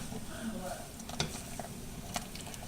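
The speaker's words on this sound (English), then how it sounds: "Let's stir the noodles again." Pasta noodles are stirred in an oversized pot, a quiet bubbling hiss broken by a few sharp spoon knocks against the pot, faint and close, with a brief murmur of voice.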